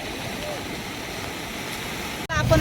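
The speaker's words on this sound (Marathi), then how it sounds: "भरपूर पाऊस आहे आणि सगळा धुका धुका दिसत असेल" Heavy rain pours in a steady broadband hiss around the Uran Karanja jetty area, with a brief dropout and a louder burst at the end.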